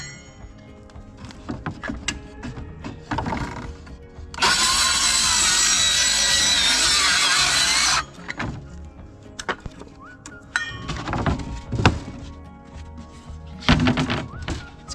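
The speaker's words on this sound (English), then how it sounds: "Come on, you silly saw." A hand saw cuts through wood during rough roofing carpentry outdoors, a loud dense rasping burst of about three and a half seconds, with scattered knocks and handling noises before and after.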